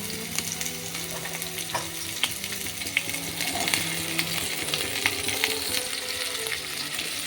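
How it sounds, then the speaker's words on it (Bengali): Potato pieces and drumsticks (moringa) frying in hot oil, a constant hissing sizzle with scattered crackles and occasional stirring clicks, moderately loud and close, with no voices. "তেল গরম হয়ে গেছে, এরপর এতে দিব আমি আলুগুলো দিয়ে দিচ্ছি। দিয়ে দিচ্ছি সজনে ডাঁটা"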